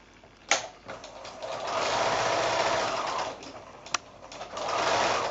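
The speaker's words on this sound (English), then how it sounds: "I'm going to take that to the machine, and just using a 1/4-inch seam allowance, I'm going to sew along that edge there." A sewing machine stitches a quarter-inch seam along the bias-cut edge of quilt fabric, a steady close whir that runs throughout, with brief sharp clicks near the start and again toward the end.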